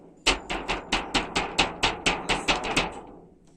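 An old bass drumhead is struck about a dozen times in a steady, even rhythm. The close, punchy thuds each ring briefly, with no talking.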